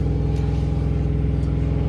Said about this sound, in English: It's gonna be loud because the APU's going